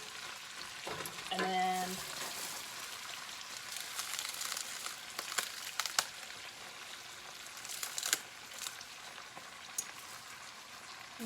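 Dandelion greens wilting in a hot pan give a steady, close sizzle with occasional stirring scrapes and clatters, and a brief spoken phrase near the start.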